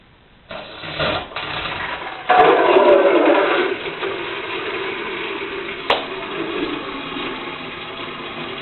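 Water drains from a plumbing valve, gushing and splashing into a bucket, starting abruptly and then settling into a steady rushing flow.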